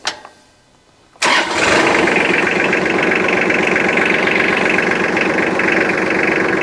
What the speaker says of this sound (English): The tractor's already warmed up too. I've done let it idle a little bit and got it warm.